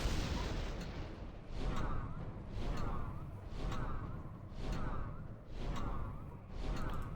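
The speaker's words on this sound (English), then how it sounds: "Commencing bombardment." Artillery bombardment in the Warhammer: Mark of Chaos strategy game, with a steady series of heavy booming shots and whooshing impacts arriving about once every second, layered over a dense rumbling battle din.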